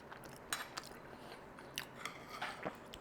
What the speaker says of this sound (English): We got that nice crunchy batter on the cauliflower that hasn't been covered in sauce.